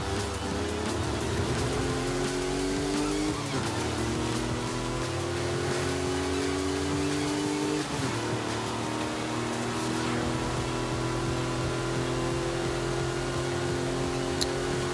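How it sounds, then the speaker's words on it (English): A Porsche 959 in Forza Horizon 5, its engine droning steadily at high revs with two distinct shifts where the pitch drops and climbs again, loud and continuous without talk. "This is the Porsche 959."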